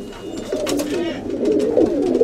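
Pigeons cooing at close range in a loft where diving pigeons are kept, soft throaty warbling calls rising and falling continuously over a brief stretch, with faint voices nearby.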